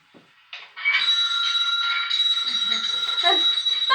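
On a theatre stage during a Hound of the Baskervilles play, a bell is rung to summon the butler. A bright, sustained, shrill ringing starts after a brief rustle and continues loudly, close and unbroken, for about three seconds.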